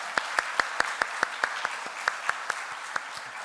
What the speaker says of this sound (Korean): 큰 박수로 한번 격려하겠습니다